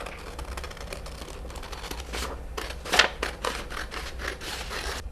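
Scissors snip through knitted sweater fabric in a series of close, crisp cuts with crinkling texture, one sharper snip standing out midway.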